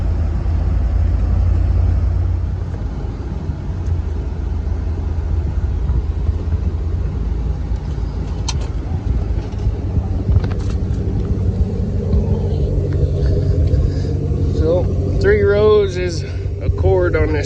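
Low, steady engine rumble of a truck rolling along slowly, with occasional clicks and rattles and some talking toward the end.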